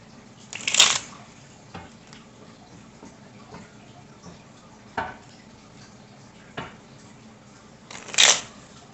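Tarot cards are shuffled close by in quiet short bursts. Two louder riffles stand out at the start and near the end, with soft taps and shuffles between them.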